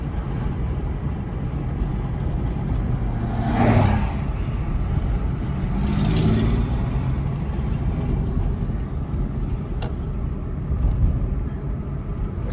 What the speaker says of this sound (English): we got one car approaching here